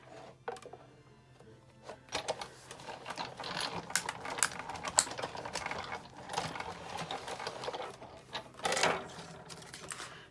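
Steady mechanical cranking and ratcheting of a die-cutting machine rolling paper through metal dies, with clicks and grinding rising and falling over about ten seconds, close by with no talking.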